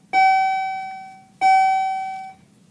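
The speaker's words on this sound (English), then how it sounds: "Sorry about the bell." Two loud, ringing bell strikes in a quiet room during a 3-D weaving session, each a clear metallic tone that sustains and slowly decays, about a second and a half apart, with no voices.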